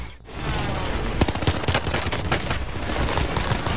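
Rapid gunfire in a shooter video game, a close and loud run of sharp shots in quick uneven bursts over a constant noisy battle bed, lasting nearly the whole stretch.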